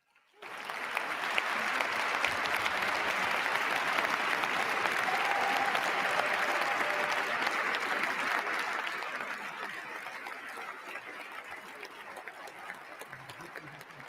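An audience applauds at the second presidential inauguration of Donald Trump, with loud, sustained clapping that holds steady for several seconds before slowly thinning out and fading.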